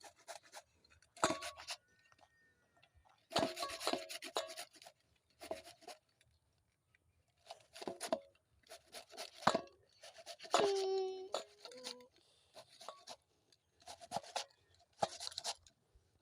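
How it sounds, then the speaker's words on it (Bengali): Kohlrabi being grated on a hand grater in a home kitchen, rapid scraping strokes in short bursts separated by pauses, close and fairly quiet, with a small clatter midway. "এই যে একটা কাটার নিয়েছি কাটার দিয়ে গ্রেট করে নেব তো এই যে এইভাবে আমি গ্রেট করে নিচ্ছি"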